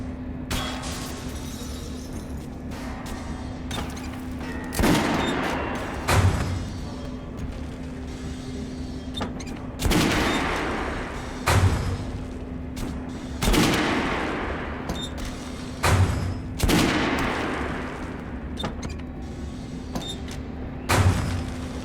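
Gunfire in Metro Last Light Redux: heavy single shots and short bursts boom at irregular intervals over a steady low mechanical drone, each blast loud and echoing before fading.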